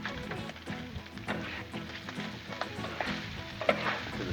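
A hamburger, onion and bacon mix fries on a Blackstone griddle, giving a close, steady sizzle with light scraping and stirring clicks throughout, no talking.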